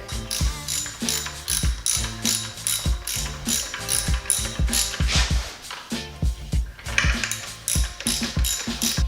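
A ratchet clicks rapidly and rhythmically up close while tightening the bolts on a Toyota Supra timing belt tensioner, with repeated bursts of sharp pawl clicks, brief pauses between strokes and no voices.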